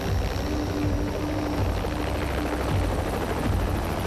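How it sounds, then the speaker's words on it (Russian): A helicopter over a snowy mountain, a loud continuous rotor thrum and engine roar filling the whole stretch with a rapid rhythmic chop close by. "Вертолет не смог подлететь так близко, как мы хотели"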